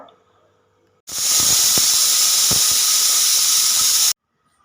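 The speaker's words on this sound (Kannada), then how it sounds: "ಇವಾಗ ಇದು 3 ವಿಷಲ್ ಬಂದಿದೆ" A pressure cooker whistles while toor dal cooks for radish sambar, giving a loud, steady steam hiss that lasts about three seconds and then cuts off abruptly.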